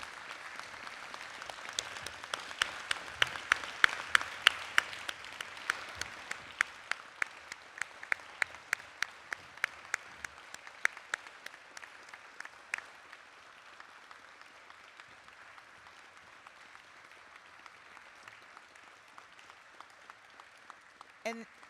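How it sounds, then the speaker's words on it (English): Steady clapping from a crowd at a People's World centennial event honoring journalists, strong at first and gradually thinning out over about twenty seconds. "let's give a round of applause"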